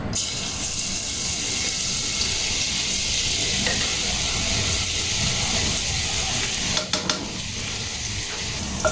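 Minced garlic sizzles loudly and steadily in a pan for Ilocano dinuguan, with a few scraping stirs near the end and no voices.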